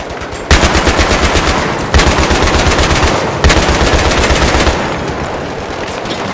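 A mounted turret machine gun in the Battlefield 3 campaign fires in long, loud sustained bursts, the rapid rounds hammering continuously with brief resets between strings of fire, no talking over it.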